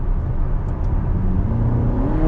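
Ferrari GTC4Lusso T with a bi-turbo V8 revving up past the point where its exhaust flaps open, a close, loud rising engine drone that climbs in pitch over a couple of seconds.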